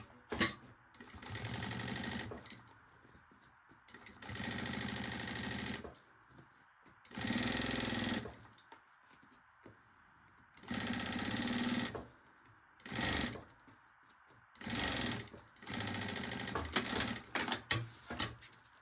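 Sewing machine topstitching a baby backpack, running in bursts of rapid mechanical stitching separated by short quiet pauses, close and fairly clear, with no voices.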